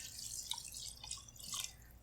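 Four cups of water pour into a pot for chicken stock made with bouillon, a faint, steady splashing trickle heard close up with no talking.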